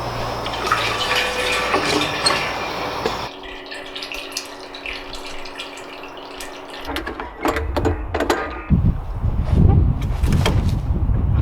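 Fuel splashes and trickles into the tank of a 34-year-old dump truck with 118,000 miles, a close, continuous pour that gives way to drips and a few hard metallic clunks near the end.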